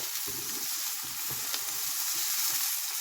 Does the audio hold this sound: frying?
yes